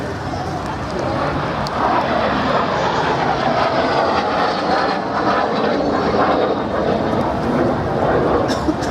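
A MiG-15 jet engine in the FlightGear flight simulator, heard as a loud, steady roar that holds at a constant level throughout with no clear changes.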